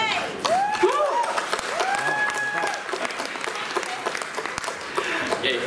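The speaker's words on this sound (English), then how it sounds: "another round of applause please to our director and cast." Audience applause and cheering for a director and cast at a Viu Malaysia original series launch event, loud and continuous with whoops and excited shouts rising over the clapping.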